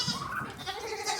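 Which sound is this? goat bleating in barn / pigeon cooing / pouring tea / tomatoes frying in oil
goat bleating in barn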